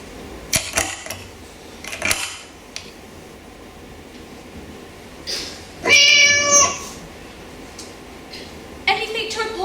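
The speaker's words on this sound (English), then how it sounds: "Someone forgot to feed the cat." A cat meows a few times among scattered clicks and rustles, one louder, clearer meow standing out midway, with another short call near the end.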